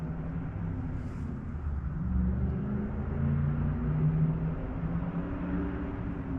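A modded car drives on a nearby street, its low engine rumble and road noise steady for several seconds and swelling a little in the middle, heard from a distance with no talking.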